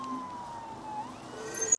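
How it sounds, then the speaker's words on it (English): An ambulance siren passes on a city street, its wailing tone sliding in pitch over low traffic rumble in a brief, fairly faint burst. "What is happening now? The ambulance is driving."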